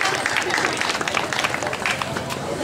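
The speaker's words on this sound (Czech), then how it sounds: "To se zaslouží potlesk." A crowd applauds briefly at an outdoor town fair, a dense burst of clapping throughout, with voices mixed in.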